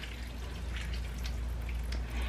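Water poured out for animals during summer, a steady, fairly quiet splashing stream that runs through the whole moment without talk.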